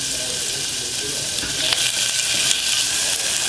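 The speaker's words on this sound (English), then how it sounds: "Let this saute for about 30 seconds." Onions and garlic sautéing in a pan, a loud, continuous, close crackling sizzle with slight stirring movements partway through, no voices heard.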